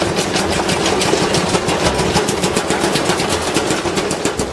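A toy washing machine runs with a steady, rapid mechanical whirring and clicking, loud and close, going on without a break.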